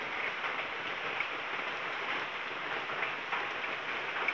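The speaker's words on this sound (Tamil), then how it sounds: "இது காலைல எப்படி மழை பெய்யுது பாருங்கள்" Steady rain falling outdoors in the morning, a soft even hiss of drops with faint scattered patters, continuous and unbroken, with no voices.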